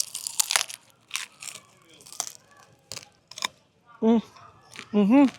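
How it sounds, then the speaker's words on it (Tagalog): Bites into deep-fried crispy pata pork leg give several sharp, close crunches and crackles, spread across a few seconds, with brief murmured voice sounds between them. "Legit na crunchy talaga siya guys."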